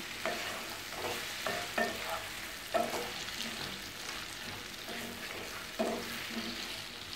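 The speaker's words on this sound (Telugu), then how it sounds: "దీన్ని కొంచెం మిక్స్ చేద్దాం, కలుపుకుందాం" Salted sambar rice being stirred in a pot: a spoon scrapes and knocks in a loose, irregular rhythm of soft clacks over a steady low sizzle, close and moderately quiet, with no voices.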